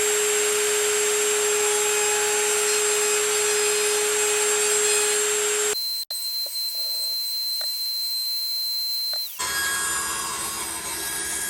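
Router chamfering the edges of hardwood pieces with a loud steady high-pitched whine, a shift to a different tone midway, then a return to the fuller cutting roar.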